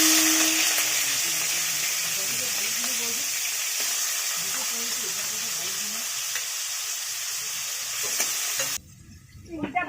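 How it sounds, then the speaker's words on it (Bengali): Prawns sizzling loudly in hot oil as they fry in a pan for a prawn and pumpkin dish, a steady close hiss lasting most of the clip, with stirring clatter, before the sound cuts off sharply near the end. "তেলটা গরম হয়ে গেছে, এবার চিংড়ি মাছটাকে ছেড়ে দেবো।"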